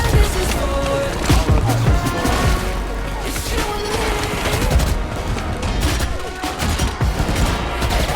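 Bursts of rapid gunfire from Sage shooting in a video game, with dense overlapping shots, clatter and impacts running through the whole stretch, loud and busy, with faint talk in the mix.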